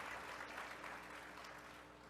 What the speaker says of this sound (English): please let's sound an applause to Jennifer for the tremendous presence here